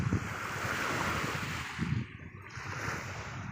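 Sea waves wash continuously on Koyet beach, a broad rushing surf with wind buffeting the microphone and the roar easing slightly partway through.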